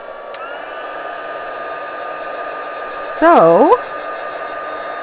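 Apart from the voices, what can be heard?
heat tool running while heating a card with tweezers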